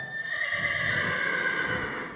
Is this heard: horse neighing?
yes